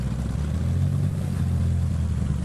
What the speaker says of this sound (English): Give ourselves a little bit of throttle. Start the engine.